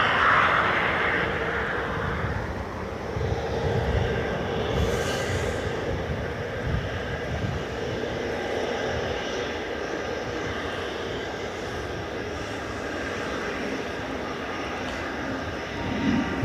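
At Dublin Airport, jet aircraft engines roar steadily in a broad, sustained rumble and whine heard from a distance. The sound holds throughout with a slight swell near the start.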